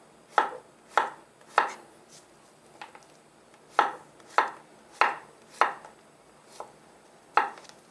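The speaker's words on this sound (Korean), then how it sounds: "애호박은 이렇게 썰어 주시면 됩니다." A knife chops zucchini on a cutting board for doenjang jjigae, sharp single thuds struck in an uneven rhythm, close and clear against a quiet room.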